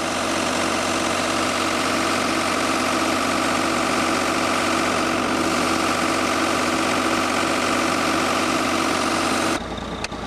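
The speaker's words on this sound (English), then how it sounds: "that's the air compressor that drives it" An air compressor engine drives a rock drilling rig, running as a loud, steady idling drone with a constant low vibration and mechanical knock, close and alone, cutting off abruptly near the end.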